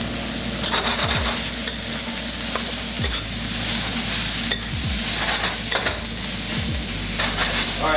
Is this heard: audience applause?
no